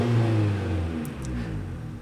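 A Honda Civic EK9 Type R with modified intake and exhaust revs close by, its loud engine note sliding down from a high pitch as the revs fall over about two seconds.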